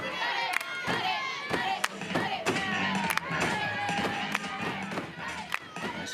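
Crowd noise at Anderson Stadium, the North Carolina Tar Heels' college softball park, during a South Carolina game: a steady murmur of spectators with sharp cheers, shouts and thumps breaking through.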